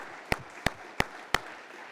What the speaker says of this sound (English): Please give all of them a round of applause.